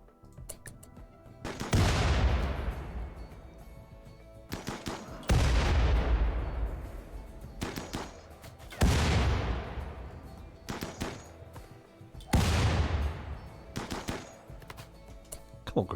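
Four heavy bursts of automatic gunfire aimed at a turret in the video game Factioncide II, each a loud crack that decays over a second or two, spaced roughly every three to four seconds with a low rumble between.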